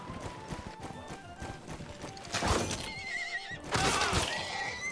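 Horses neighing in a medieval battle simulator game, several loud whinnies rising over a busy bed of hoof clatter and battle noise, with a second strong neigh near the end.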